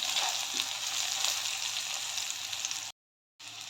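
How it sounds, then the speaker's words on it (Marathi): Chillies and whole garam masala spices such as peppercorns and cloves frying in hot oil, a close, even sizzle that cuts out abruptly near the end before resuming briefly. "तेलावरती मी जरा परतून घेतले मसाले, हे मिरची आणि गरम मसाला।"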